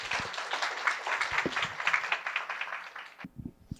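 An audience at a Changbi 60th anniversary celebration applauds to welcome a speaker, many hands clapping steadily at moderate distance before the clapping drops off sharply near the end.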